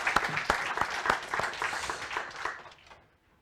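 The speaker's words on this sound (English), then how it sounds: "Applause" Audience applause at a conference plenary session in Oslo, a dense round of clapping with a few sharp individual claps standing out, holding steady before fading out to silence near the end.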